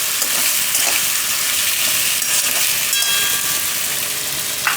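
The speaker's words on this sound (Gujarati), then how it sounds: "બટેટાને આપણે તેલમાં પાકવા દઈએ થોડીક વાર, વચ્ચે વચ્ચે ફેરવતા રહે." Thinly sliced potatoes fry in hot oil in a home kitchen pan, giving a steady close sizzle and hiss with occasional light scraping as they are stirred; no one speaks.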